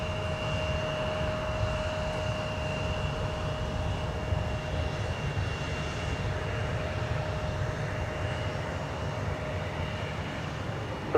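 Airplane taking off at Minneapolis–St. Paul Airport, a steady, fairly loud engine roar with a sustained whine, continuous and without talk.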